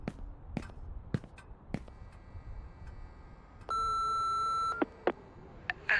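In the horror video game Remothered, an answering machine sounds a single sustained electronic voicemail beep lasting about a second, surrounded by soft footsteps and small knocks in a quiet room.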